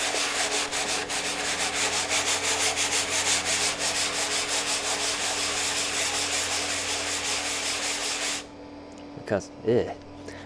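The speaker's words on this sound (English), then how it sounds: "Just wet it down in a very gentle sanding block" Rhythmic back-and-forth rubbing of a gentle sanding block wet-sanding a rough surface on an IBM PC expansion unit, steady strokes for several seconds, then it stops and a voice briefly speaks.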